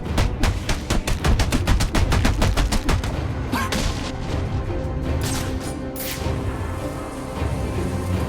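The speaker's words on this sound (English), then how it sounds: "He's getting shot!" Gunfire in Batman: Arkham Origins: a rapid, loud burst of automatic shots for about three seconds, then sparser single shots and bangs over a noisy battle background.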